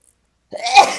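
A single sneeze bursts out abruptly halfway through, loud and close after a moment of silence, with a sharp breathy onset that trails off.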